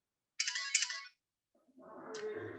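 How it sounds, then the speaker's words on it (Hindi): A phone rings twice during a lecture on yoga philosophy, two separate bursts of electronic ringtone, fairly clear against a quiet room. "एक मिनट जरा मैं फोन मना कर दूं उनको।"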